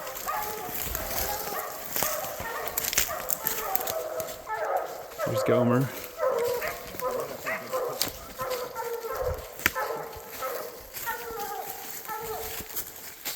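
Hunting dogs bark and yip at a bear treed in British Columbia, with sharp, scattered barks close by and someone talking over them throughout.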